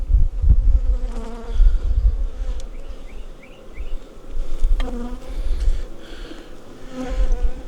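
Honey bees buzzing loudly and close as a nuc of bees is moved into a hive in a farm yard, a continuous dense hum with louder swells and a few brief knocks.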